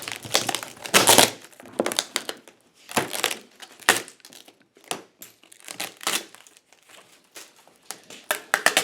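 Packaging straps being cut and pulled off a boxed 3D printer, giving a run of crinkling, snapping and rustling bursts of plastic and cardboard at close range, irregular and alone without talk.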